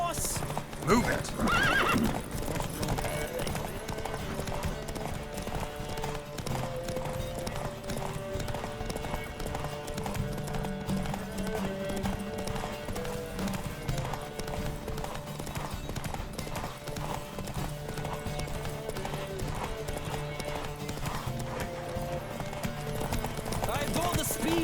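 Horses galloping hard in a race in the video game The Witcher 3: continuous rapid clip-clop of hooves with repeated neighs and whinnies, loud and close throughout, with voices mixed underneath.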